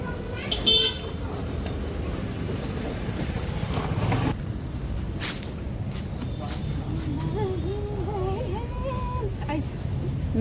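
On a rainy road with strong wind, a car horn toots briefly near the start over steady passing-traffic rumble and rain, with people talking throughout.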